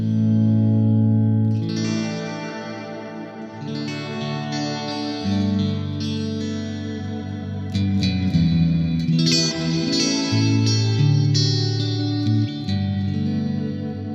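Electric guitar played through reverb and chorus pedals on a pedal board, sustained chords and notes swelling with a wide, shimmering wash and long echoing tails, loud and continuous with no talking.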